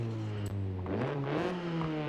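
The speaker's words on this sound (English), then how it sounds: "let's go and listen to this intake." Intake of a 1997 Honda Civic Type R revving in Forza Horizon 5, a steady harmonic engine drone that climbs in pitch midway through and holds, close and moderately loud with no talk.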